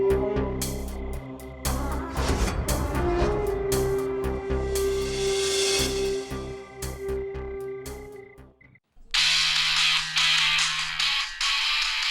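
A phone ringtone plays loudly as a looping electronic melody, cuts off briefly, then resumes with a brighter tone.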